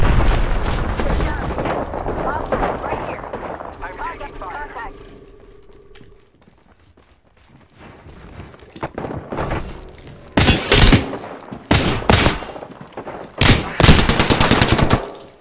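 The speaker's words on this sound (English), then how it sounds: "I'm taking shots. Opening fire." Bursts of rapid automatic gunfire from a first-person shooter video game, loud and close, arriving in several separated volleys with booming impacts, following a stretch of game voice lines and quieter ambience.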